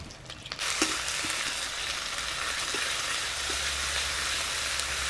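A ground spice paste with ginger-garlic paste and chopped tomato fries in a pan, giving a close, steady sizzle that starts after a few brief clatters and carries on evenly with no talking.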